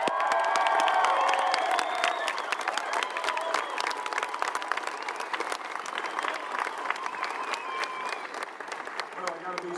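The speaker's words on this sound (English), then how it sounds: "Make sure you give him a good round of applause." A rally crowd at a gun-rights gathering in Austin, Texas, breaks into applause mixed with cheers, whoops and scattered shouts, sustained throughout and easing slightly toward the end, with some voices audible in the mix.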